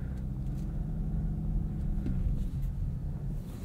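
A 2023 Audi S6 drives with a steady low engine and road rumble, continuous and fairly loud throughout with no talking.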